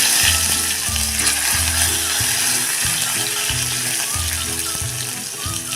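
Green chillies and curry leaves sautéing in hot oil with mustard seeds and asafoetida. The crackle and sizzle is steady and continuous, with rhythmic mechanical clicking layered over it.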